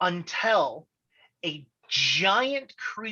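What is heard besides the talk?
No everyday noises stand out.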